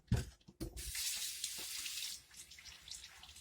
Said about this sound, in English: and just wash them off real quick